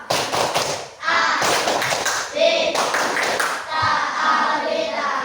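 Schoolchildren in a fifth-grade Indonesian classroom chant together while clapping rhythmically, with sharp claps punctuating the loud group voices throughout.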